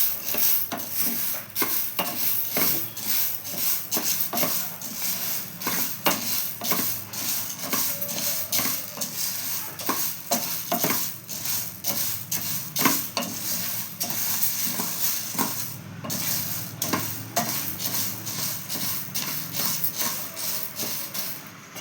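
Green gram dry-roasting in a pan over low flame, stirred continuously so the dry grains rasp and rattle in quick, regular scraping strokes, close and clear with no talk.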